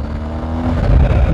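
A BMW GS R1250 HP motorcycle engine revs loudly and close by, its boxer drone swelling upward over a short burst with no talk.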